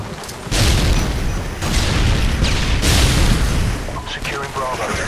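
Combat in Modern Warfare 2 Domination on the Storm map, with heavy booms of a grenade blast amid sustained gunfire, loud and dense throughout as voices talk over it.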